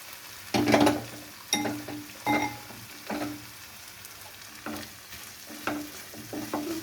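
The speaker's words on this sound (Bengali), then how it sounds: "মোচাটাকে এর সাথে খুব সুন্দর করে কষিয়ে নিতে হবে" Boiled banana flower being sautéed in a pan, a soft background sizzle broken by rhythmic bursts of stirring and scraping, a handful of strokes spaced about a second apart.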